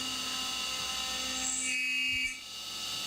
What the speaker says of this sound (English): Next I go through and I cut those recesses out with this 3/16 inch end mill